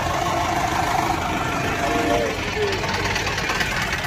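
A 2019-model tractor with nearly new tyres idles steadily at a tractor market in Talwandi Sabo, its low engine rumble continuous and close, with people talking over it.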